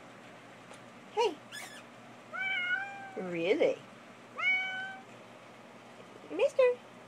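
A cat meows repeatedly at close range, several rising and falling cries spread across the moment, with a person briefly speaking between them in a quiet room.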